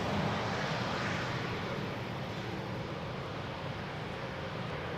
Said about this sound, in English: that was an Embraer 190 returning from Aalborg